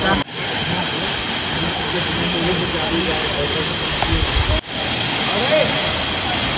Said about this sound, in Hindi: ये रहा झरना, हल्का हल्का पानी गिर रहा है